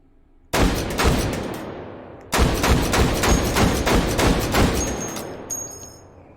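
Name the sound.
M107 semi-automatic rifle shots in H3VR video game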